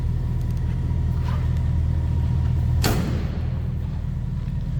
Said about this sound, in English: Door closes, fits nicely.